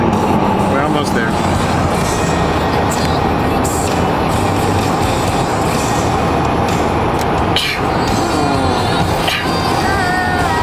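A car cruising along Highway 401 on a Mother's Day drive, with loud, steady road and engine rumble filling the cabin throughout and people talking over it.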